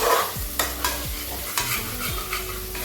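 Ginger and garlic frying in a pan while being stirred, with steady sizzling and repeated scraping strokes of a spoon at an irregular rhythm, close and fairly loud, with no talking.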